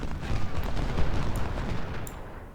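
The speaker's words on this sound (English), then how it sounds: "so that you're not being targeted by these cannons." Cannon and gunfire from the battle game Ultimate General: Civil War rumble as a dense, continuous low roar of overlapping booms, fairly loud, with no talking.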